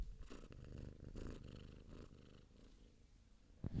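A cat purring up close, a soft rhythmic rumbling purr in steady pulses with a brief sharper sound near the end.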